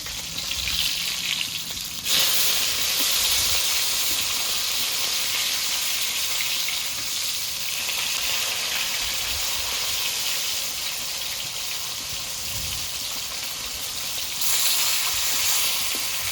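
Pieces of local rohu fish fry in hot oil for a thin curry, a loud, constant sizzle and hiss that swells in strength near the start and again near the end.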